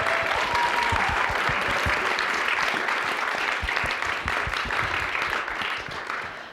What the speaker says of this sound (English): So can we give them all a round of applause?